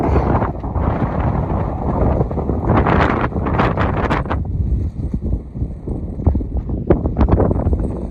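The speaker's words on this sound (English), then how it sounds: "It's windy." Strong gusting wind on the Appalachian Trail near Saddleback roars and buffets the microphone throughout, rising and falling in loud blasts with rustling undertones.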